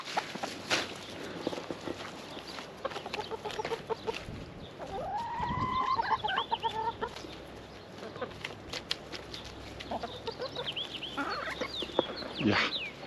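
Several chickens being fed lettuce in a garden cluck and squawk nearby, overlapping calls rising and falling over steady outdoor background noise.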